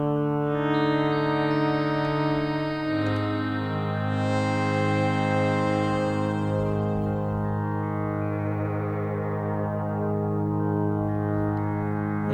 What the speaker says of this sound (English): adding a bit of reverb again to that one, and a bit of release time, maybe some fade in to make it a pad